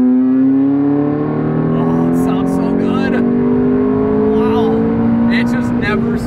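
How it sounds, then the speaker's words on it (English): A high-mileage supercar with a sport exhaust accelerates at speed, its engine tone climbing steadily in a loud, close, sustained pull heard from inside the car while people talk over it. "The engine sounds absolutely amazing. And I love the fact that it has this sport exhaust."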